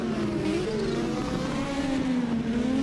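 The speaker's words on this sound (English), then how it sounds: "Turbocharged engine, makes a wonderful sound, and it's got the most power of any car in the field" Turbocharged Audi S1 race car at a European hill climb championship round, its engine droning loudly and close, with the pitch sliding up and down through gear changes.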